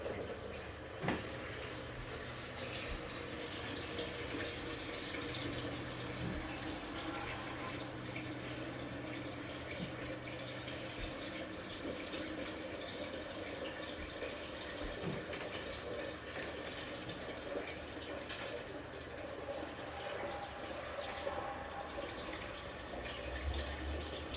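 Steady running water filling a home fish tank during cleaning, a continuous close wash of pouring and splashing with no talk.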